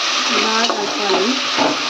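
Ingredients for village-style bagara rice are stirred in a pot, giving a continuous sizzling, scraping hiss with soft irregular scrapes over about two seconds.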